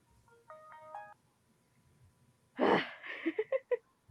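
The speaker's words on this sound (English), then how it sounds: "Phone call." A short electronic ringtone melody plays in stepped tones, then stops, followed by loud breathy gasps and sharp vocal bursts.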